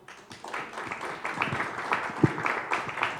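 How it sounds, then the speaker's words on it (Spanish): An audience at a forum on cybersecurity and data protection claps to welcome a speaker, a light, scattered patter of applause from a moderate crowd, fairly soft and brief, with no talk over it. "Les pido por favor que puedan recibirlo con un fuerte aplauso."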